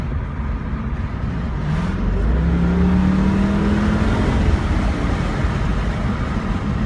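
A 2002 Ford Thunderbird accelerates hard on a road test drive, its engine note climbing in a loud, continuous roar heard from close inside the car, with rising tone and steady road noise and no talking.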